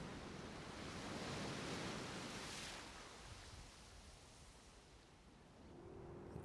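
Ocean surf in the video game Horizon Forbidden West, a soft broad wash of rolling waves that swells and recedes, distant and quiet with a faint windy hiss.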